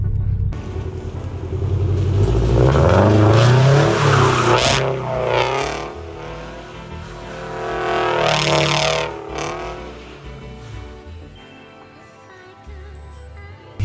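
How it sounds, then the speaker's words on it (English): Toyota GR86 doing donuts, engine revving hard in surging waves with tires squealing and skidding, two big loud bursts that climb and fall, then the engine settles to a low idle near the end. "It's really easy to get this car just to initiate into donuts just by not even having to press the clutch in or anything, just use the gas."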